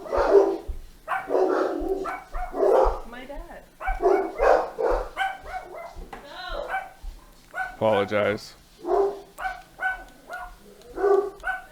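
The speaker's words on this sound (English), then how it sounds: "Excuse my dogs." Dogs bark in short, repeated bursts close by, overlapping with a person talking throughout.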